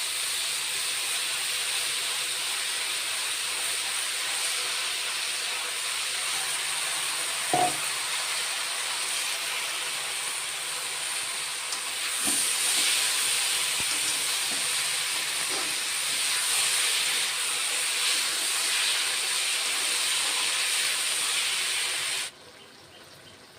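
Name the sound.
sizzling and steam as garlic and green chili paste is added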